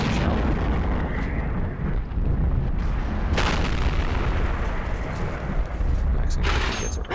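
Tank cannon fire and shell explosions in a World War tank battle video game, a loud continuous rumble of battle with sharp booming impacts near 3.4 and 6.5 seconds.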